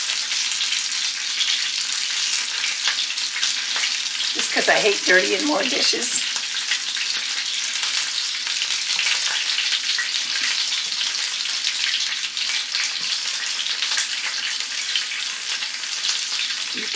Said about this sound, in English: I'm going to go ahead and stir in 4 cups of shredded cheese